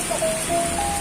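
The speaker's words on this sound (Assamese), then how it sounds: "এই বৰষুণ দিছে, বহুত ঠাণ্ডা লাগিছে" Heavy rain falling in Guwahati, a dense, continuous hiss of rain pouring close by, briefly heard with a faint thin whistling tone through it.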